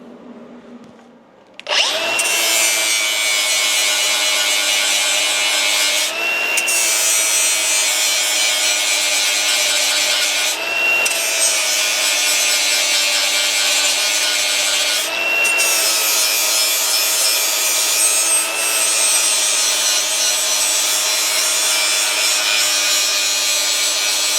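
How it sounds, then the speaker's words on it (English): A grinder shapes the end of a turbo pipe for an LS-swapped Ford bumpside truck. It gives a loud, continuous, harsh whine with a ringing tone, broken by a few short pauses. "I'll just grind down this end, start shaping it into the pipe"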